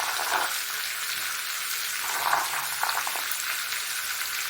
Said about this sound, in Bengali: এই টমেটোটা দিয়ে এবার এটা নাড়ছি।